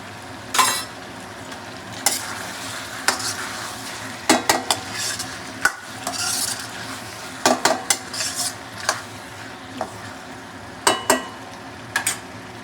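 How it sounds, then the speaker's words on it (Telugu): Kadai chicken with masala sizzles in a pan while a utensil scrapes and clatters against the metal in repeated sharp bursts, close and fairly loud over the constant frying hiss. "ఇలా ఆయిల్ బయటికి కొంచెం తేలే వరకు మనం ఫ్రై చేసుకొని"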